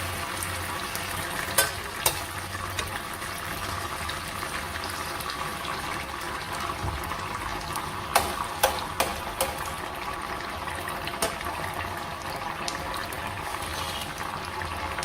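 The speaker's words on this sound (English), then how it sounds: "Pour in my tomato, I let it fry before I add more." Tomato frying in a pot for egusi soup, a steady low sizzle with occasional sharp clinks and stirring knocks, close and moderately quiet, no talking.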